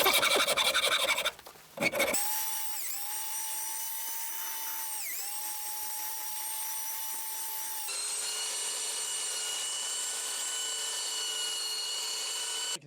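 A steady, continuous whir of a power tool abrading a hickory tomahawk handle, loud and close, pitch dipping briefly under load a few times, after a short burst of rougher rasping at the start.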